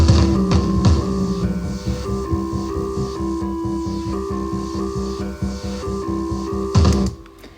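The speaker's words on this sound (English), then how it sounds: "Let's listen to the manipulated Glockenspiel." A manipulated glockenspiel sample plays with background noises. Repeating tonal notes pulse over a throbbing, humming low layer, loud and steady, then cut off near the end, with no speech.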